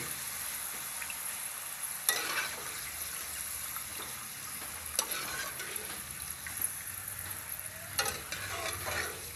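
Homemade potato chips frying in hot oil: a continuous bubbling sizzle, fairly quiet and close, with occasional sharper crackles and clinks of a slotted spoon.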